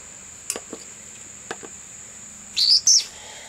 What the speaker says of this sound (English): This is an Augur Buzzard.